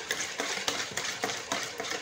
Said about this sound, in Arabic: نخلطوهم مع بعض خلاط خفيف